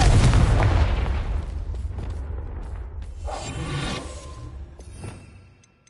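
The Confringo fire spell explodes in Hogwarts Legacy with a loud opening boom, then crackling, rumbling bursts that trail off over several seconds, with no talking over them.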